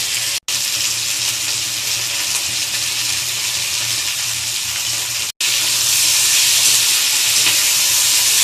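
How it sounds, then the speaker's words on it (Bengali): Small fish fry in hot oil with salt and turmeric, a loud, continuous close sizzle that cuts out twice for a moment. "হালকা হালকা আসবে ভেজে নেব"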